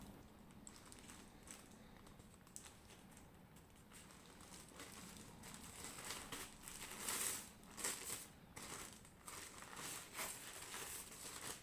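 A plastic bag crinkles faintly and close by as a Redmi AX6 WiFi 6 mesh router is unwrapped, with soft irregular rustles that thicken in the second half.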